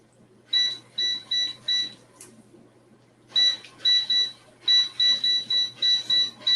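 An air fryer timer beeps in short electronic bursts, a first group of about four quick beeps, a pause, then two more runs of rapid beeps, clear and close.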